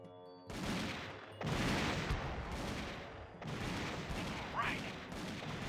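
Dense game gunfire from Army Men: RTS, a real-time strategy battle between toy plastic soldiers, crackling in sustained loud bursts after a brief quiet start, with a short gap before the volley resumes.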